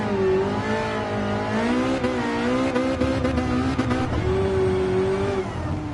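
A car engine revs hard after a downshift to second gear in Gran Turismo Sport on a wet track, its pitch rising and dipping in a sustained loud whine with a brief tire squeal and no talk.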